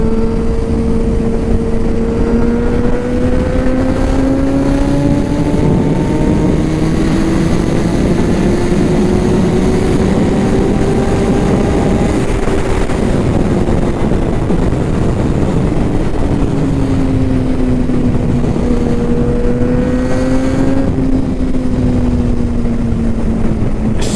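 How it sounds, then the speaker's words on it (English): Kawasaki ZX6R motorcycle engine while riding, a loud continuous drone whose pitch climbs and falls gently with throttle changes, under steady wind rush with no speech. "So good to get out on Taffy's bike."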